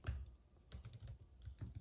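Rapid typing on a computer keyboard, with quiet, close clusters of key clicks in an uneven rhythm and no voices.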